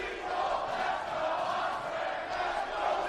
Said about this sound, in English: we hear the crowd go back and forth